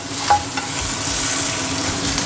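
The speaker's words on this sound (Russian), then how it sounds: "Теперь жарю всю остальную печень." Chicken liver frying in a pan, with a steady, loud, continuous sizzle and occasional stirring scrapes, heard alone without talk.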